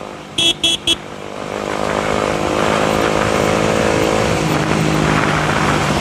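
Three short horn-like beeps, then a motorcycle engine revving up and holding a loud, rough roar nearby.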